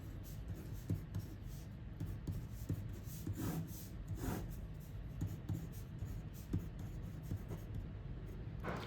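A pen writing out a math digit puzzle on paper gives soft, quiet scratching strokes in short bursts with small pauses, close up and alone.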